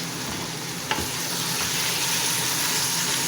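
Mutton sizzles and fries in a pot with occasional stirring, a loud continuous crackling hiss with a brief clank of a utensil near the start.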